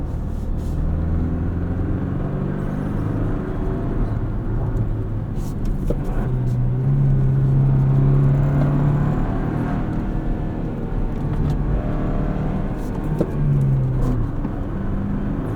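A 2024 Toyota Tacoma pickup with a 6-speed manual drives and accelerates, its engine droning steadily from inside the cab, with one brief rising whine mid-run and a steady road rumble underneath.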